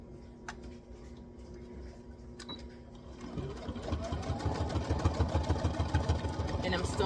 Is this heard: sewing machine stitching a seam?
yes